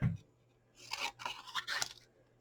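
Several crisp snipping and crunching sounds of scissors cutting paper, close up, in quick bursts over about a second and a half.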